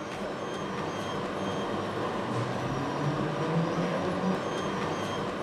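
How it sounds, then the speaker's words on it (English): A Docklands Light Railway train enters platforms on an adjacent viaduct, rumbling steadily at moderate distance, a continuous mechanical hum and rolling rattle without voices. "A DLR train enters the platforms on the adjacent viaduct"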